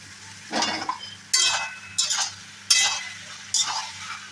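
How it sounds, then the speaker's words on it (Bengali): Boiled soybean chunks are stirred into a spiced masala frying in oil for a vegetarian curry, producing five bursts of scraping and sizzling with short quiet gaps between strokes, close up and without speech. "মশলা থেকে একদম তেল ছেড়ে বেরিয়ে এসেছে এবারে এর সাথে অ্যাড করে দিচ্ছি সয়াবিন"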